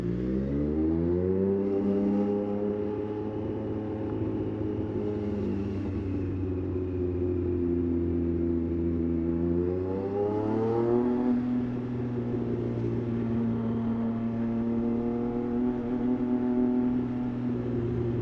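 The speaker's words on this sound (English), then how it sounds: "I like to kind of rev out second when I can." A motorcycle ridden along a city avenue revs out in second gear, its engine droning steadily, climbing in pitch around the midpoint, then settling into a lower steady tone, close and continuous.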